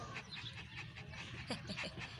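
A dog panting close by in quick, rhythmic breaths with a faint whimper, at a street party on New Year's Eve.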